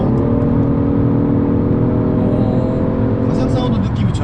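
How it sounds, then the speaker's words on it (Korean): A Genesis G70 3.3T's real engine note drones steadily from inside the moving car, a smooth, layered hum that holds a constant pitch and dips slightly near the end. "저 아래서 나는 소리예요. 그냥 엔진 진짜 사운드가 같아요."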